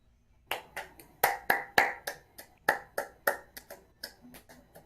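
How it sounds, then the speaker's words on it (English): About fifteen sharp hand claps ring out close and clear in a loose, uneven rhythm, spaced by short quiet gaps, with no other sound. "Clap. Clap. Clap."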